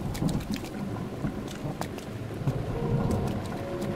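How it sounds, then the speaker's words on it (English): Steady rain pours in Zelda: Breath of the Wild during a lightning storm, a dense continuous hiss and patter with scattered sharper drops, no speech. "And now it's raining. With lightning."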